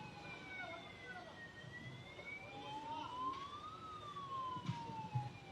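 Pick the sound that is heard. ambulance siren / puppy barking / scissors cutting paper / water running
ambulance siren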